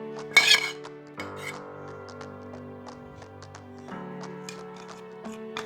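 Bread and spices are worked together in a bowl for homemade chicken nuggets, with a sharp clink of utensil on the bowl at the start followed by quieter scraping and tapping sounds against a faint ringing tone.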